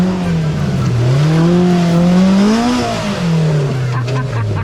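An off-road car climbs a steep trail, its engine note swelling and dropping as it strains and lifts onto its rear wheels, loud and close, with a voice briefly heard near the end.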